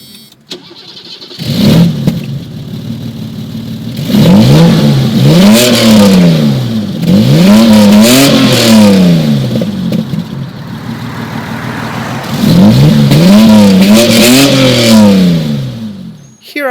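A 1982 BMW 735i E23 inline-six engine revs up and down in repeated surges, loud and close, settling back toward idle between bursts; no talking.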